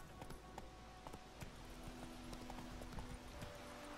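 Roach the horse trotting in The Witcher 3, a short run of quiet, even hoofbeats clopping in a steady rhythm, faint and close with no talk over it.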